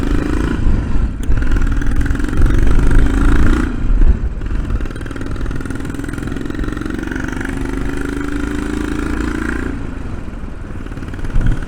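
A 1991 Royal Enfield Bullet motorcycle built in India runs loud and close, its engine a steady, thick mechanical drone with brief revving surges early on and a constant rumble while riding.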